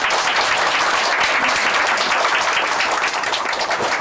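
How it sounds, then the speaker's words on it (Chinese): An audience at a religious teaching gathering breaks into sustained, loud applause, dense clapping filling the whole stretch evenly without pause. "请大家先鼓掌鼓掌。"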